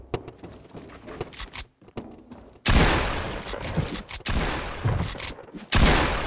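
Gunfire in Fortnite mobile starts as a few quiet, scattered pops, then breaks into loud, close bursts of rapid shots with brief gaps between them.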